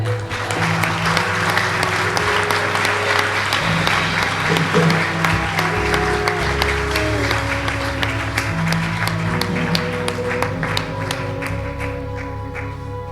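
A church congregation at a seminar applauds steadily and loudly throughout, dense clapping layered over sustained organ or keyboard chords and some voices.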